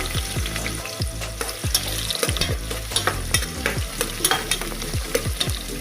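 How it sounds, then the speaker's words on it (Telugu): Cardamom, a bay leaf and chopped green chillies sizzle in hot oil as a base for mutton curry, with steady frying crackle and repeated sharp scrapes of a spoon stirring the pan, close and fairly loud. "ఒక ఇలాచీ ఒక బిర్యానీ ఆకు రెండు పచ్చిమిర్చి ముక్కలు ఇవి ఫ్రై అయ్యాక ఆనియన్స్ వేసుకోవాలి"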